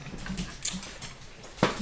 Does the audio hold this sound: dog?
yes